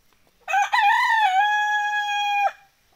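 One long, loud rooster crow, close by, rising and then holding for about two seconds before cutting off. Quiet before and after.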